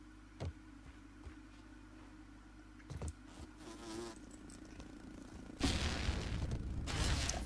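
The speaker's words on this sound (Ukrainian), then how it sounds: "вже перший москіт на нас напав" Tiger mosquitoes buzz in the survival video game Grounded, a whining insect drone that wavers close by, broken by a few soft thumps before a louder burst of game noise near the end.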